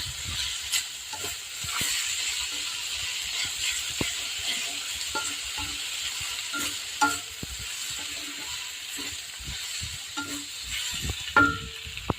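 Fresh yellow noodles are stir-fried with onion and carrot, a steady sizzle broken by repeated scraping and clanking of a spatula against the pan, with no talking.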